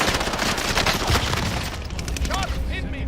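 Video game gunfire crackles in a dense, continuous barrage of loud shots and booms, with a few brief pauses and chirping effects near the end, while players talk over the action.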